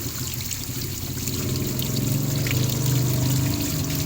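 Dirty water flushing out of a car heater core hose, a steady pouring trickle close by that swells slightly louder toward the end, with a faint mechanical hum underneath.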